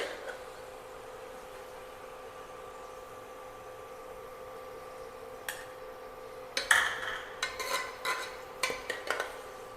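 Roasted onions being scooped out of a pressure cooker for Kerala-style ghee rice: a quiet low hiss for several seconds, then a run of sharp metal spoon scrapes and clinks against the cooker.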